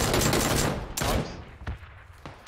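Gunfire in PlayerUnknown's Battlegrounds: a dense rattle of shots at the start, then three or four separate sharp cracks spaced out and fading, loud and close with no talking over them.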